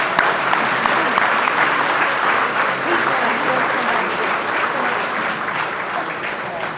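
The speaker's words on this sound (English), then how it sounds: "Welcome to the round of applause." An audience at a police awards ceremony applauds as a lifetime achievement honoree is called to the stage, with loud, dense clapping that holds steady and then eases slightly toward the end.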